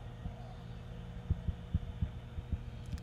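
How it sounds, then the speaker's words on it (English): Distant SpaceX Falcon Heavy booster landing burn heard as a low rumbling hum with a series of soft, regular thumping pulses, faint and far off. "We're hearing the landing burn."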